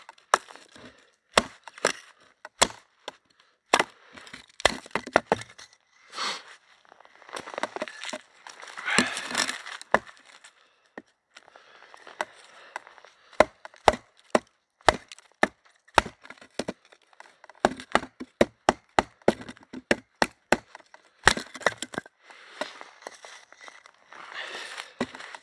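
Condor Crotalus knife batoning through wood, with sharp irregular knocks as the handle and spine are tapped, bursts of splintering and crackling as the wood splits, and quiet gaps in between.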